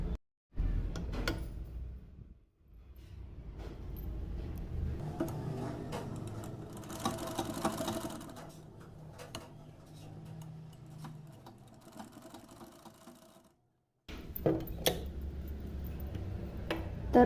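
A sewing machine stitches a tassel in a long, steady run of close mechanical ticking and whirring, broken by short pauses near the start and near the end.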